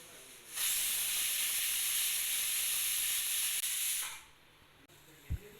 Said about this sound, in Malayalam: ഹൈ ഫ്ലെയിമിൽ ഒരു വിസിൽ കേട്ടിട്ടുണ്ട്